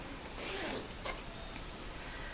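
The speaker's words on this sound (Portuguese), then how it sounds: "nós vamos abrir aqui o nosso zíper" An invisible zipper being opened at the sewing table, one drawn-out rasping pull followed by a couple of quick short zips, close and clear over faint room noise.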